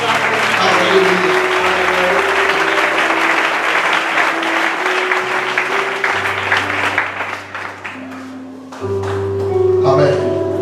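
A church congregation applauds through sustained music, with steady dense clapping over held notes that dips briefly near the end before returning.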